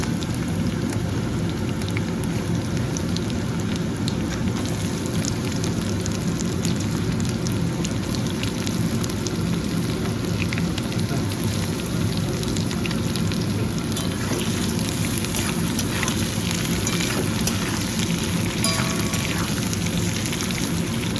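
Onions sizzle and crackle steadily in a hot pan for village-style desi chicken, a dense, even hiss with no pauses and no voices.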